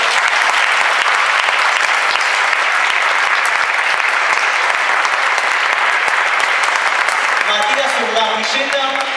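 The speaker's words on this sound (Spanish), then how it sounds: "Un aplauso, por favor." Loud, sustained applause from a crowd at an artistic gymnastics exhibition as gymnast Sofía Ambrosino is introduced, a dense continuous roar of clapping, with a voice emerging near the end.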